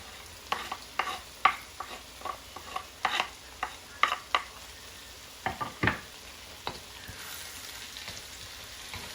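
Vegetables and garlic saute in a pot for vegan chili, a soft sizzle under repeated close scraping and stirring knocks from a utensil against the pot, fairly quiet and irregular.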